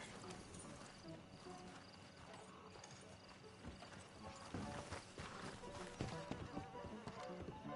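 Steady hoof clip-clop of a horse in the video game Red Dead Redemption 2 moving along, mid-distance, beneath a busy ambient bed with some faint voices and background activity.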